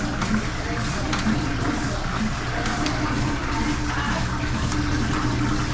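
A water pump pushes water through a hose in a steady, rushing gush that stays loud and even the whole time, with a few faint knocks mixed in.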